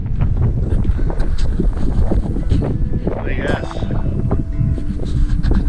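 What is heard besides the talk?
strong wind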